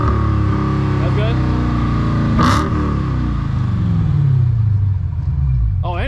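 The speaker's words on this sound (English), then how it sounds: "I want to hear the exhaust." A Dodge Charger Redeye's engine revs loudly through its exhaust, a deep throaty drone rising and falling in pitch up close, with a sharp burst midway and voices talking over it.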